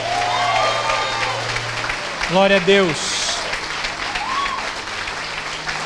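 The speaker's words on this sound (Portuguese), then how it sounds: "Vamos dar um aplauso, irmãos, a todos esses irmãos e irmãs" A church congregation at a Sunday service applauds steadily throughout, with a voice speaking and exclaiming briefly over the clapping partway through.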